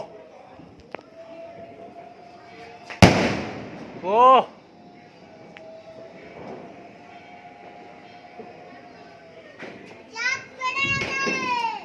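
Firecrackers and fireworks set off during a Laxmi Puja celebration: a sharp loud bang, then whistling, rising fizzes and crackling bursts in several separate outbursts, with people talking between them.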